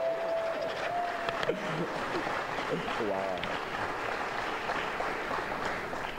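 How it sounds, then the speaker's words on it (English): Audience applause for four young athletes at St. Pius X's early National Signing Day ceremony: steady broadband clapping throughout, mixed with voices, a brief exclamation and a few whistle-like cheers. "Round of applause, these four young men."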